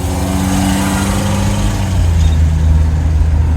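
A car engine with a worn exhaust runs loud and close, a continuous rough low rumble with a slight rise in revs partway through, and no talking.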